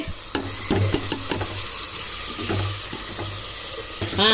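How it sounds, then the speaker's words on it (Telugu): Gongura mutton curry with fenugreek leaves, ginger paste and tomato frying in a pan, a spoon scraping and stirring in bursts of clinks over a steady sizzle, with a brief watery rush near the end. "కూర వేసుకుందామండి."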